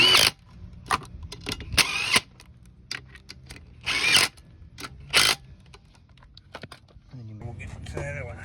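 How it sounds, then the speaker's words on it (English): Short, loud bursts from an impact driver tightening lower unit bolts on a 50 hp Mercury two-stroke outboard, several rattling hits spaced apart with quiet pauses, ending in softer handling noise and a brief voice. "Usually if you use an impact, always start them by hand."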